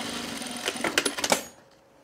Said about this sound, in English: we're gonna sew across both the top and the bottom of the fly shield.